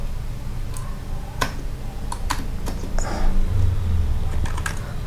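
Keys tapped on a computer keyboard while entering code in STM32CubeIDE, scattered clicks and short bursts at close range over a low steady hum.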